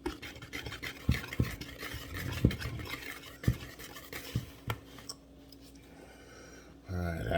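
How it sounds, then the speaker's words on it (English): Blondie batter with flour being stirred by hand in a bowl: soft, quiet scraping with a few louder knocks of the utensil against the bowl. It tails off into near silence before a brief louder rustle at the end. "you want to mix it until there's no lumps of flour or anything in this mix"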